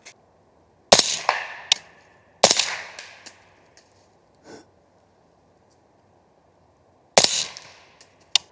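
Subsonic .300 Blackout rifle shots fired at 45 yards ring out as several sharp, loud cracks, each trailing a brief echo, with a few softer clicks between them and no talk.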